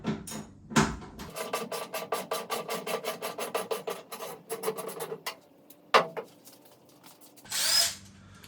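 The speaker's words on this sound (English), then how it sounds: "You can see all the T25 Torx screws that we need to remove. So we got our T25 Torx bit right here. Let's get those unscrewed" Power driver fitted with a T25 Torx bit backs screws out of a Toyota Tundra tailgate cover: a fast, steady ratcheting whir pulses for several seconds, then stops, followed by a couple of short clunks and a brief scrape.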